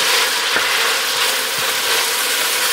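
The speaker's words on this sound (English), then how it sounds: "We wanna brown it up and just get a little bacon flavor out of it." Diced ham browns in a hot pan, a steady loud sizzle hissing without a break, with a few faint clinks of stirring and no talking.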